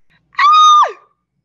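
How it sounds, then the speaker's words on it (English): A woman lets out a single sharp, sustained scream lasting about half a second, loud and close, ending in a falling tail, in a radio drama. "Don't scream, please."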